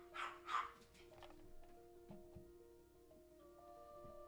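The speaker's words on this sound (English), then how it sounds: "What are y'all barking at each other?" Two quick, close dog barks come at the very start, then the dogs fall quiet over a low, steady background hum.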